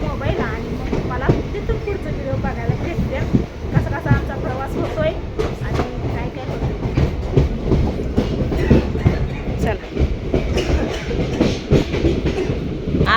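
A train rumbles steadily along the tracks with rhythmic clatter throughout, loud and close, heard from inside a carriage arriving at Kedgaon, with faint voices in the background.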